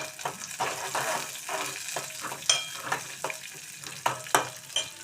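Onion pieces sizzling in a pan with a pinch of salt, for a cucumber-tomato curry: a steady frying hiss with repeated sharp stirring clicks and scrapes, no speech.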